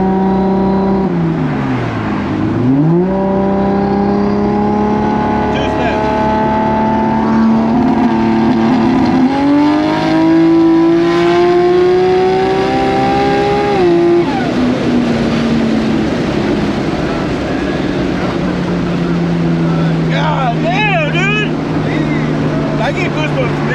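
A 1000+ hp Toyota Supra accelerates hard on a street, its engine loud and close, rising in pitch through several gear pulls with a dip between shifts, while people in the car shout and talk over it.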